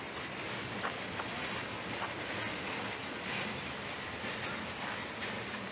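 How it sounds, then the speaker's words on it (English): A train rumbles past steadily, a broad continuous roar of wheels on rails with faint clicking, loud and close throughout. "Here comes our IORY train."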